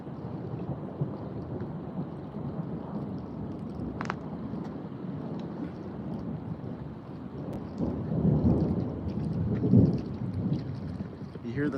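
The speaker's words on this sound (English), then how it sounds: "you hear the thunder?" Low rumbling thunder from a storm approaching outdoors, a long steady rolling drone that swells louder near the end, with faint voices murmuring in the background.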